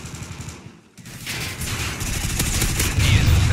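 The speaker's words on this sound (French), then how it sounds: "il nous tire dessus" Rapid automatic gunfire crackles in Call of Duty: Ghosts, starting after a brief lull and building into dense, continuous bursts of shots that grow louder and heavier toward the end.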